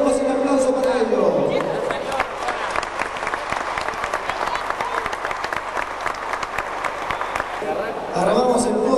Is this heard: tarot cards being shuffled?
no